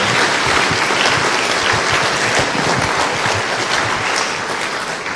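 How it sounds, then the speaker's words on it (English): A room full of people applauds at a community event in Cincinnati, loud, dense and continuous clapping that holds steady for about five seconds and eases off only slightly at the close. "Can we get another round of applause for Regina, please?"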